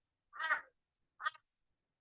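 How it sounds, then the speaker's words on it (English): Two short, harsh bird calls, the second followed by a brief chirp, clear against a quiet outdoor background with no talking. "You can hear the birds."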